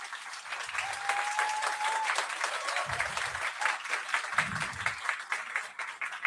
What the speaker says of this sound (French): Vous allez devoir applaudir autant